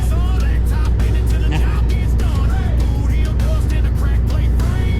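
A truck hauling an intermodal container rolls along with a loud, steady engine drone and road rumble, while a voice talks over it intermittently.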